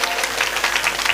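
A devotional audience celebrating the installation of a Hanuman ji idol breaks into brisk, steady clapping that fills the moment.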